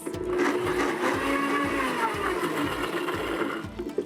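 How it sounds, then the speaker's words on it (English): A countertop blender whirs through hollandaise sauce in a steady, fairly loud motor drone with a regular pulsing throb, running for a few seconds before easing off. "since the hollandaise has been sitting here, I'm gonna give it a pulse"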